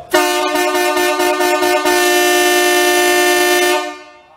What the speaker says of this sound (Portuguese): Aquela dupla poderosa, dupla marítima. Toca aí, Joe!